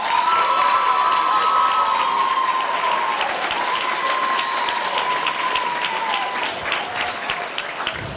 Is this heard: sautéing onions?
no